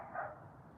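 A single short, deep dog bark from another dog, somewhat muffled and set against a steady low background rumble.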